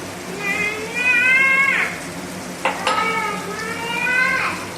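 Garlic and tomato sauté in a pan with a steady broadband sizzle, broken by two drawn-out, whining high tones and a sharp clack near the middle.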